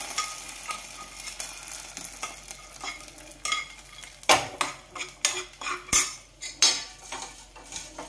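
A metal spoon scrapes and clinks against a pan while stirring a ragi drink cooked with ghee, strokes sparse at first, then louder and more rhythmic toward the end, close by with no talking.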